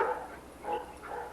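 A dog barks three times in quick succession, somewhat faint and distant, with short gaps between the barks.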